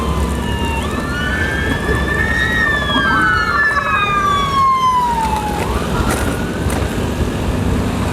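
A siren wails and sweeps in pitch as an ambulance passes on an Indonesian road, rising then dropping as it goes by, loud over steady traffic and engine rumble.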